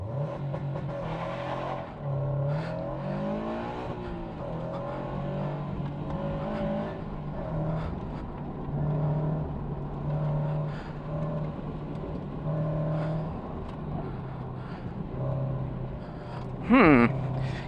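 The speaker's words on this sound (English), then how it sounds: "Let's do a little launch control." A car launching hard with launch control at a race track: a loud, close engine drone climbs and falls through repeated rev sweeps, ending in a sharp burst of noise.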